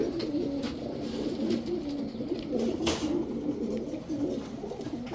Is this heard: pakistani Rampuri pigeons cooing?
yes